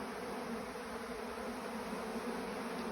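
Honey bees hum in a steady, dense drone around managed beehives, a continuous close buzzing that holds at an even level throughout with no voices.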